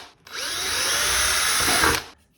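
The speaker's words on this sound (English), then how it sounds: "if I use this size drill bit, it will take longer and it will probably go all over the place when I'm trying to drill into this flat part of the plastic" Power drill boring into a flat plastic armour piece, one steady high whirring burst of about two seconds with a slight pitch rise as the bit bites, close and loud, starting and stopping abruptly.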